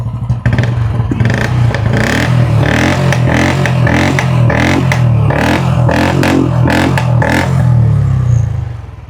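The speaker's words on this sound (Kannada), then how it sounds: "ಎರಡು ಕಡಕ್ ಅದಾವ್ರಿ ಗಾಡಿ ಸೌಂಡ್ಗಳು" A Royal Enfield motorcycle with ABS runs loud and close, its thumping engine revved in repeated throttle bursts before it dies away at the end.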